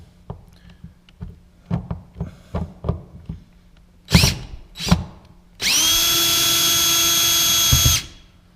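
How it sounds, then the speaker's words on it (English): A cordless power drill backing screws out of power pole equipment: a series of short clicks and brief whirs, two sharp bursts, then a steady high whine lasting a couple of seconds, close and clear with no talking. "So here on this side, we're just going to take the screws out."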